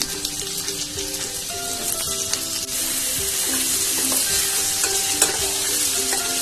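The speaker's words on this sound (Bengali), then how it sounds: "আলু ভাজা তেলের মধ্যে এঁচড়গুলোকেও ভেজে নেব" Steady sizzling of young jackfruit frying in hot oil, with occasional stirring clinks and scrapes, continuous throughout with no voices.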